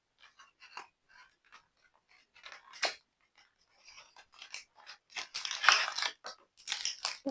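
Wrapper of a Dubai chocolate bar being torn open, soft crinkling and rustling foil and plastic in scattered bursts that grow busier and louder toward the end, close by.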